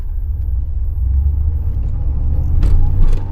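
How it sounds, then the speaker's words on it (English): A 1987 IROC car engine runs at a steady idle, a loud, continuous low rumble close to the microphone with a brief rise in intensity near the end. "Again, the car runs really quite well."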